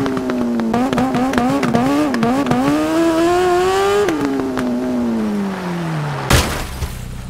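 A motorcycle races in the video game TT Isle of Man, its engine whining loud and near, rising and falling through gear shifts before winding down, ending in a sudden thump.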